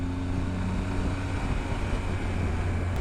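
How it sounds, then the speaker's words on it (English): Steady rushing wind buffets the microphone on a motorcycle ride along a village road, a dense, roaring blast with no pauses, loud and close. "Wow, windy."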